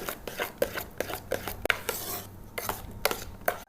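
A spoon repeatedly clinks and scrapes against a bowl while mango pulp is mixed into shrikhand, producing close, rhythmic wet stirring strokes with sharp metallic taps.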